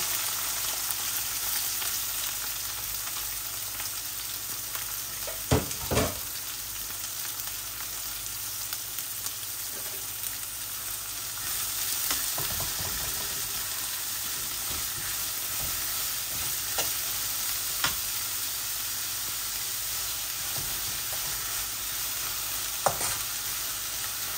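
Steady frying sizzle of onions with spinach in a pan throughout, with occasional clinks and scrapes of stirring; close and continuous, no talking.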